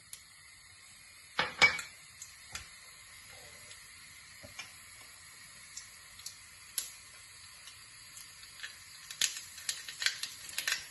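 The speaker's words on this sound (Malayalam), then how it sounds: "എണ്ണ ചൂടായി വരുമ്പോൾ നമ്മളുടെ കടുക് ഇടുകയാണ്" Mustard seeds spluttering in hot sunflower oil in a pan, a steady faint hiss punctuated by scattered sharp pops and crackles that cluster more densely toward the end, with no talking.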